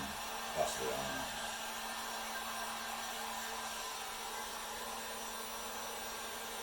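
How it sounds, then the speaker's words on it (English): Heat gun blowing hot air over epoxy and longleaf pine in a thin plastic silicone mold, a faint steady whirring hiss with a constant hum that runs unbroken after a soft bump at the start. "I probably ended up doing the damage myself with this heat gun"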